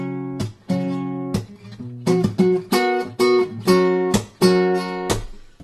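A guitar plays measure 127 of a chorus, a string of plucked chords and notes in a halting, syncopated rhythm with short gaps, close and clear with no talking.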